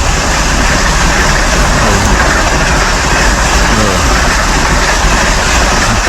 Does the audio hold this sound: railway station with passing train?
yes